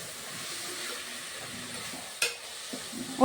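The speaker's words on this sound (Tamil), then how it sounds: "தக்காளியும் போட்டு நல்லா வதக்கி விட்டுடலாங்க" Onion, ginger-garlic paste and tomatoes sautéing in a pan for egg gravy, a soft steady sizzle with stirring scrapes, a sharp clatter just past two seconds and another near the end.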